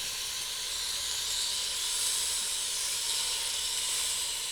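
Chicken pieces, a breast and thighs, sear in an Instant Pot insert, giving a steady, loud, continuous sizzling hiss that holds without pause, with no talking.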